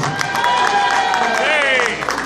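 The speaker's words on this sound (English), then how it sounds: "Give yourselves a strong round of applause" An audience at a Bronx Day event in Albany gives a round of applause, a continuous wash of clapping blended with loud cheering and shouting voices.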